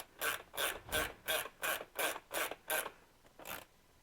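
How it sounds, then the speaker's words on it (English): A ratcheting box end wrench tightens a bolt on a CAT steering post, giving about nine evenly spaced raspy ratchet strokes, close and crisp, then a short pause and one last stroke. "I'm getting my ratcheting box end wrench."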